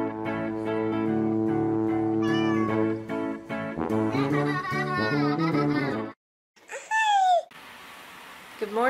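A cat gives a couple of drawn-out, wavering meows near the end, after a stretch of sustained musical tones and voices, audible close and fairly loud.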